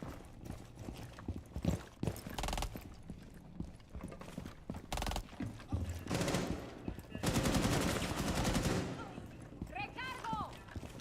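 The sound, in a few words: shotgun firing in a video game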